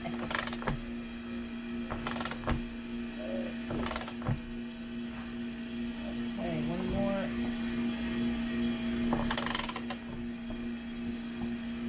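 A screw and nut being tightened on a makeshift scaffold: scattered sharp metallic clicks and ratcheting creaks in short bursts over a steady background hum, fairly close.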